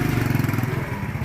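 A motorcycle taking children for a ride, its engine running with a steady pulsing drone close by throughout the short stretch.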